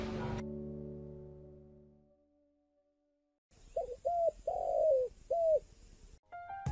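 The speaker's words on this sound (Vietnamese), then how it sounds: "Yêu sao tiếng gáy chim cu" A turtle dove coos close by in a short series of soft, rolling notes after a fading sustained tone and a pause of near silence.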